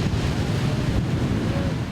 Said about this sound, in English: There's plenty of wind